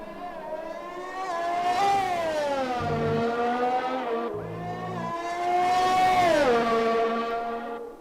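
F1 race car engine screaming through a flying lap in F1 2020, a loud high-pitched whine rising and falling with upshifts and braking, close and continuous, no talking.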